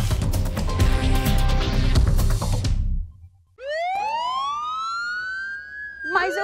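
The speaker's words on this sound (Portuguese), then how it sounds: "Mas eu quero que tu capriche mais ainda nessa sirene, Ricardinho, porque é um absurdo." Loud music and noise cut off abruptly, then a police siren wails in rising sweeps, clear and close, before another burst of sound at the end.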